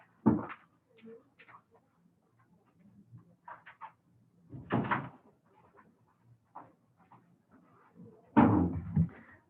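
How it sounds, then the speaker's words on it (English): Door being shut indoors in a quiet room, a few separate thumps and rattles spread across the moment, with softer handling noises in between and the last bang the loudest. "I just need to shut the door here."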